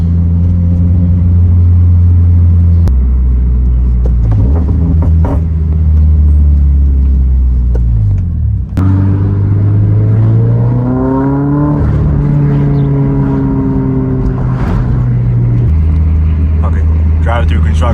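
Toyota GR86 ZN8 street and drift car, its engine droning loud and close while driving, revving up and down through several gear changes with a rising and falling tone under some talk.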